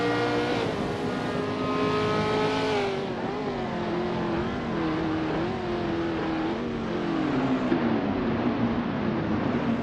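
A 1968 McKee Mark 12 race car in a racing game, its engine howling steadily with shifting pitch as it gears up and down, loud and continuous with no voices.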